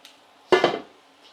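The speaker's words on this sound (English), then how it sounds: "what I'm going to do is I'm going to take this pan here" A metal cooking pan is lifted, giving one sharp clank that rings briefly and fades in an otherwise quiet kitchen.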